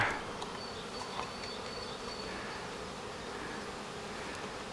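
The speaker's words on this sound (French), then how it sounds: "vous voyez là quelques abeilles qui rentrent avec du pollen sur les pattes" A dense, steady buzz of many honeybees at a small hive's entrance on a sunny day, close by and continuous, with individual bees droning past.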